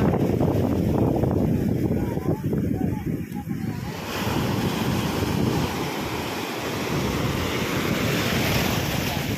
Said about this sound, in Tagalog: nalaki ba man ang alon?